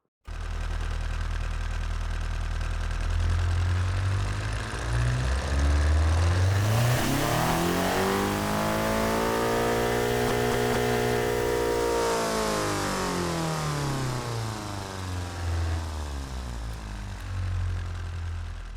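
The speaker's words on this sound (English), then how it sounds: "let's do a quick pull test of this turbocharged and slightly higher end RPM version of the HU16 IT engine right now" A turbocharged 1.6 liter engine in the Automation car-design game revs steadily through a pull test, its tone sweeping up and then back down in one long continuous, loud run with no talk.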